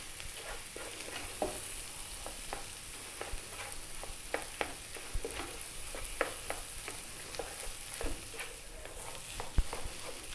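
Mashed potato with onion and spices being mixed in a bowl: a steady soft, moist scraping and squelching texture with scattered light clicks, close and continuous, with no talking.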